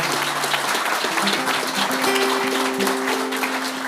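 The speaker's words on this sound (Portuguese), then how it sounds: "vamos dar uma salva de palmas" A crowd gives steady, dense applause throughout, loud and close, with a few instrumental notes sounding underneath.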